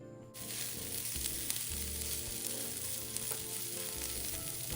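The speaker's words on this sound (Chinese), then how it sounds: "锅里头倒入1小匙食用油，接着再将预先备好的食材全部倒入，" A teaspoon of cooking oil and prepared ingredients hit a hot wok and stir-fry. A loud, continuous close sizzle starts abruptly and holds steady throughout.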